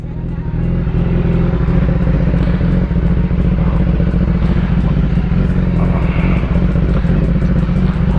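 A warmed-up Suzuki GSX-R 600 sportbike idles steadily close by, its loud, even engine thrum holding without revving for several seconds, with no talking.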